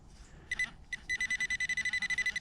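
A handheld metal detector pinpointer beeps during a detecting outing, a couple of short high chirps followed by a fast, steady run of sharp pulsing beeps, loud and close.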